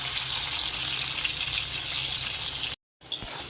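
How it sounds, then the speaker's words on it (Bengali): Potatoes fry in hot oil for a kundri masala, giving a steady, bright sizzling hiss that runs unbroken. It drops out briefly near the end, then returns. "তেলটা গরম হয়ে গেছে, এর মধ্যে প্রথমে আমি আলুগুলো কষে নেব"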